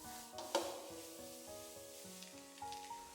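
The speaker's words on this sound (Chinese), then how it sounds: "大火快速翻炒1分鐘" Bean sprouts stir-fried over high heat in a wok, a faint sizzle with soft scraping stir strokes and one sharper clatter near the start, no talking.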